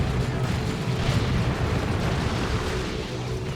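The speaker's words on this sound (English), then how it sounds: "Light grenades going in." Blight grenades explode on a Dawn of War 2 battlefield between Tyranids and Chaos Space Marines, a dense, rumbling wash of blasts and booms rolling continuously with no clear gaps.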